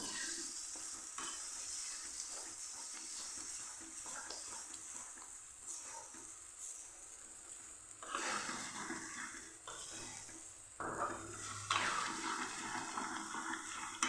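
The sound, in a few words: fenugreek leaves sautéing with spices in a pan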